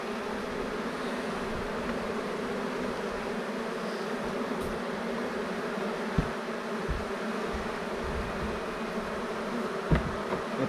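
Honeybees buzz steadily around an open hive that holds a swarm cell, a dense continuous drone close by, with a couple of faint knocks and no talk.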